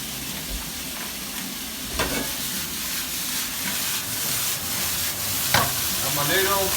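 Prawns stir-frying with softened vegetables over high heat, a steady close sizzle with occasional scrapes and stirring bumps, fairly loud and continuous.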